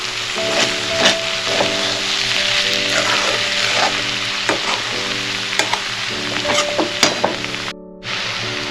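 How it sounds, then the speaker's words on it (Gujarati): Potato curry fries in a pan with salt and turmeric, a continuous close sizzle punctuated by repeated scraping and clinking as it is stirred, with a brief quiet gap near the end. "જો આપણે શાક હલાવી લઈએ"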